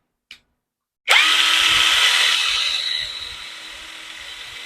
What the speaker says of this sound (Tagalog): So gamit tayong impact wrench, soksok lang natin itong bearing, papaikutin lang.